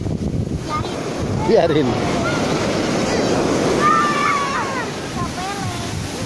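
Surf washing onto a beach at Tambak Rejo on the south Blitar coast, a continuous rushing wash mixed with wind buffeting the microphone, while people talk and call out nearby over it.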